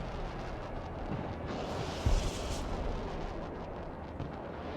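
Artillery barrage in the video game Broken Arrow, a low rumbling roar of distant explosions with one sharper thump near the middle over constant battlefield noise.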